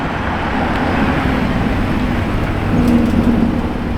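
A Lamborghini Urus S drives past with a steady, fairly loud broadband road roar that swells slightly near the end, mixed with surrounding traffic noise.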